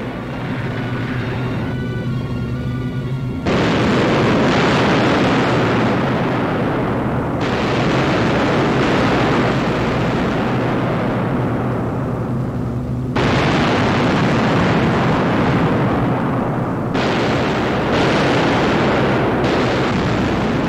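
Allied bombers attack a stronghold in a 1944 wartime newsreel, with heavy rumbling blasts that rise and fall in long roaring waves, loud and harsh, with no narration over them.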